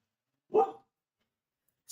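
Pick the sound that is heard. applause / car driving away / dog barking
dog barking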